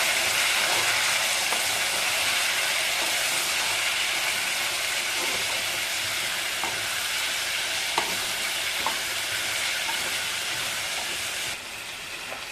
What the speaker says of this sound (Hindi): फ्राई करो।